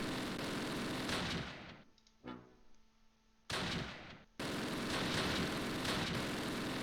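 A tank gun fires in the World War II game Close Combat, with dense crackling blasts and a rolling roar that cut out briefly and then return loudly, with no talk.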